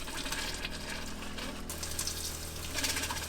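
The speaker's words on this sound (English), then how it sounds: "I'm going to turn on my water pump, and that's going to start pumping it out of the jug" An RV water pump pumping pink antifreeze out of a jug, giving a steady low hum with liquid rushing and gurgling.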